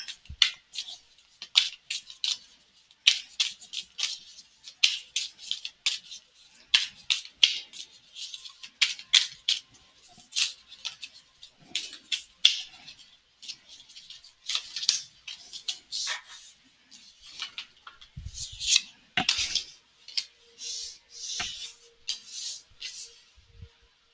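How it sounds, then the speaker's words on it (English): Oracle cards pulled and shuffled from a deck, a long run of quick papery flicks and snaps, close and crisp, with brief pauses and no talk. "I'm going to go ahead and pull all of the cards"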